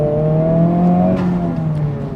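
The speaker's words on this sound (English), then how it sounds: "this car sounds a lot better, especially when engine sound is in R mode" Honda Civic Type R FL5 engine in R mode with synthesized engine sound, a steady loud drone with clear harmonics that rises and eases slightly over about two seconds, no voices.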